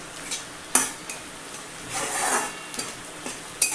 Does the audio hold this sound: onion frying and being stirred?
yes